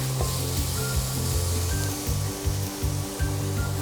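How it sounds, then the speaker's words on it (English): Chopped onions, garlic and bay leaves sautéing in a pan for a South Indian vegetable biryani, giving a steady close sizzle with a repeated rhythmic scraping of stirring through it. "So we're going to saute just these couple of ingredients until the onions soften"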